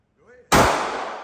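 A single handgun shot at an indoor gun range, very loud and close with a sharp crack and a long reverberant tail, preceded by a brief voice.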